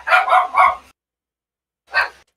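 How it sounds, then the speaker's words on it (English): Three quick dog barks in a row, loud and close, followed by a pause and one more single bark, with no talking over them. "Why are the dogs barking?"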